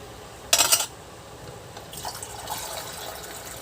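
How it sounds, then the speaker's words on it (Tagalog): Water splashes briefly into a cooking pot for tuna afritada, a short loud gush followed by quieter trickling and sloshing at close range. "Lagyan natin ng tubig."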